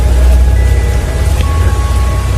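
Steady heavy rain falls continuously through the evening, a dense, even wash of drops with a low rumble underneath, loud and close throughout with no voices.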